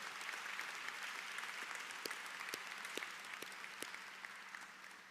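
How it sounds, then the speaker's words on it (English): An audience applauds at a university's fall convocation, with a dense, even patter of many hands sounding fairly distant and soft, sustained throughout with a few sharper claps. "Let's give them all a round of applause."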